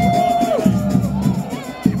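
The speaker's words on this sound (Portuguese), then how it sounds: "Vamos ver a reação aqui da torcida do Cianorte, ali da coberta, tá protestando." Cianorte football fans protest in the covered stand during a match, a loud, continuous crowd din of shouting and voices with a few sharper yells rising out of it.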